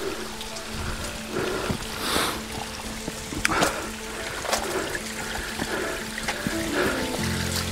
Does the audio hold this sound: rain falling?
yes